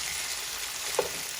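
Garlic green beans sautéing in a pan make a soft, steady sizzle, with one faint stirring scrape near the end and no talking.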